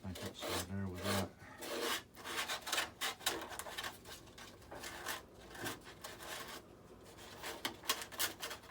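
Sandpaper rubbed by hand against a Freewing F-15 model jet's ring burner part, a soft, close, scratchy rasp in short repeated strokes with brief pauses, faint overall.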